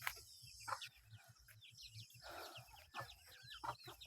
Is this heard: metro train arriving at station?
no